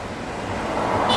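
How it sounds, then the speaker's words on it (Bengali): A mountain waterfall near Manali rushes in a steady broadband roar, loud and continuous, with a slight rise toward the end. "ঝর্ণার জলটা।"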